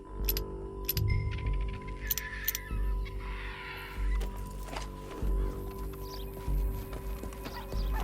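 Hoofbeats of a horse in Red Dead Redemption 2 clop along in bursts under a steady low hum, with sharp clicks and a brief swishy rustle in the background.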